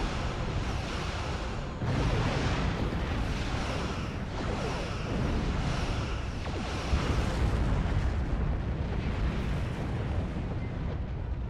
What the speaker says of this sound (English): Lots of noise, lots of explosions.